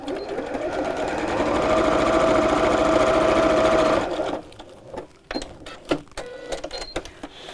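A sewing machine stitches straight across the base of a crossbody bag with a steady, close whirring run for about four seconds, then stops, leaving scattered handling clicks and knocks.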